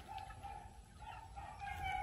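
Chickens cluck and cackle faintly on a farm hacienda while waiting to be fed, a quiet continuous bird chatter with a soft steady background hum.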